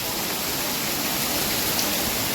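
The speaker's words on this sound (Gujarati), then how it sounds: "એકદમ ફૂલ જોરદાર વરસાદ વરસે મિત્રો, તમે જોઈ શકો મિત્રો." Heavy rain with wind pours down in Gujarat, a dense, steady roar that stays loud and unbroken throughout.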